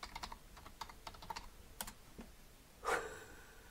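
Someone types a password on a computer keyboard, giving a quiet, close run of light key clicks in an uneven rhythm, ending in one louder keystroke, with no talking.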